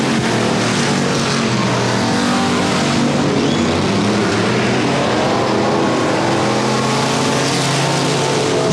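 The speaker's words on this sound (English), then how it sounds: "Street stock heat race number 1 underway here for RaceOnTexas.com on demand here at Sabine Motor Speedway" Street stock race cars at Sabine Motor Speedway roar around the track in a dense, continuous wall of engine noise, loud and sustained with no speech.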